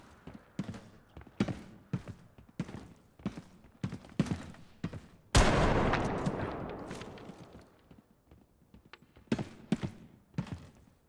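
Shotgun blasts in the game Bodycam: a series of sharp, separate bangs spaced irregularly, with one heavy, sustained burst and echoing tail midway, mostly with no voice over them.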